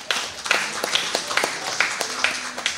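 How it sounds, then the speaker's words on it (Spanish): Scattered audience clapping at a live podcast taping, a run of separate handclaps at a moderate, uneven pace, with some talking underneath. "Aplauso, por favor"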